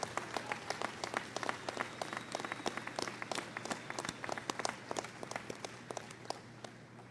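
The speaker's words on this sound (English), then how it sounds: "extend a round of applause to those whose support and assistance have been so important to your college" Graduates and families at the 2018 Illinois Wesleyan commencement applaud in a scattered, fairly sparse clapping that runs steadily for several seconds, individual claps distinct against a low hum, heard from a little distance.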